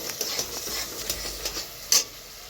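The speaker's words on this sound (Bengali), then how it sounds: "ফোড়নটা হালকা করে নাড়াচাড়া করে লাল লাল" Spices temper in hot oil in a pan, crackling and sizzling close by while a utensil stirs and scrapes with repeated light metallic clinks; no one talks.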